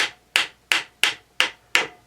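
Six sharp, evenly spaced hammer taps ring out on a drilled bolt head in a Honda CT70H engine case, each a crisp metallic strike with a short decay, close and without talk.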